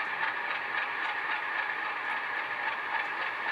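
Idle startup rumble from a Rapido HO-scale CN locomotive sound decoder, from the CN Tempo set, a steady mid-pitched drone with rail-like texture running evenly and moderately loud throughout, with no talking.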